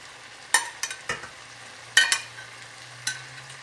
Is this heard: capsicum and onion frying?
yes